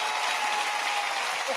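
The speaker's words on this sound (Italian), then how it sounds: "Vabbè, un altro applauso." Studio audience applauding during a live radio broadcast: dense, steady clapping from many hands, fairly close and even throughout the short stretch.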